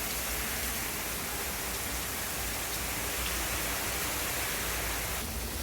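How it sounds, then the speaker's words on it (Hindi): Heavy storm rain pours steadily, a dense, continuous roar of falling water without pauses. "यहाँ पे बहुत तेज बारिश है।"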